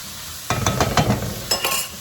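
Vegetables for Puerto Rican-style rice with salami wilt in a hot pan, with a soft steady sizzle broken by a few quick stirring scrapes and clatters.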